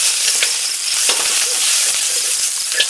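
Chilies stir-roasted in a hot pan, with a steady close sizzle and hiss plus scattered scraping stirs and crackles throughout, no talking.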